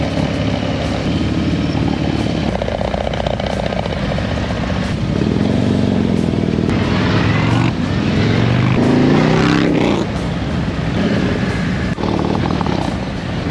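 Several motorcycles leaving a Sturgis rally stop and riding off down the road, a loud sustained engine rumble that swells and shifts as the bikes pull away, with no talk over it.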